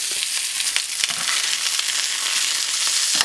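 Goat chops fry in a pan with a steady, dense sizzle and small pops, heard close up with no talk.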